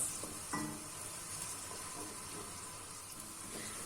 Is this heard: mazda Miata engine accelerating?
no